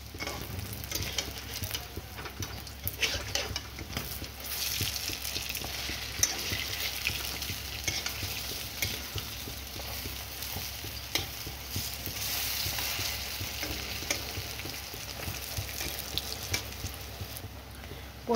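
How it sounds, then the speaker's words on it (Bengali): Pointed gourd and red lentil fritters frying in oil give a steady, moderately quiet sizzle, with light stirring and scraping noises over the continuous hiss. "একদিকে হয়ে গেছে, ভাজা হয়ে গেছে। এবার আমি পাল্টে দেব।"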